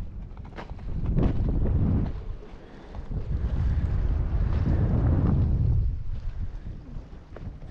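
Wind gusts at a reservoir, hitting the microphone in loud, rumbling waves that swell and ease over several seconds, with no voices heard.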